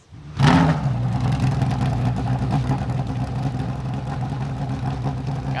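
A DXDT Racing Chevy Corvette Z06 GT3R with a 5.5-liter naturally aspirated V8 fires up at Long Beach, a sharp loud bark of ignition settling into a close, throaty, steady high-idle rumble.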